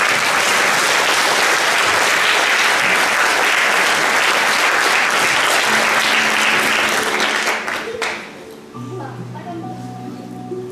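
Audience applause at a regional parenthood-day conference in Olsztyn, a long, loud, steady round of clapping that tapers off near the end as a quieter tone and voices take over.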